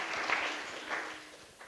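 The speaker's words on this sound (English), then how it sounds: "So give yourself a round of applause" A workshop audience claps together at the close of a developer conference session, a steady dense patter of applause that swells and fades slightly over a couple of seconds.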